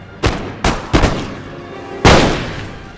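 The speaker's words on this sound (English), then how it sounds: "we actually get one of these lines to break from some artillery fire" Artillery booms in an Empire: Total War battle: three loud cannon blasts in quick succession, then a pause and a fourth heavy shot with a long rumbling decay.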